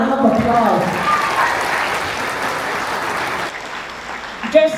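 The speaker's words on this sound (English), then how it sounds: "Let's give them all another round of applause." Applause from a crowd at a tribal queen event, with voices and cheers over it at the start, the clapping fading out before a voice speaks briefly at the end.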